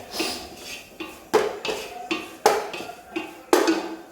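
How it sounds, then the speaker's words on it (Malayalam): A spoon stirring and sautéing in a pan with oil, making sharp repeated metallic clinks and scrapes at a roughly even rhythm, about one every second, close and clear with no talk. "അപ്പോൾ അത് നല്ലപോലെ ഇളക്കി വഴറ്റി എടുക്കുക"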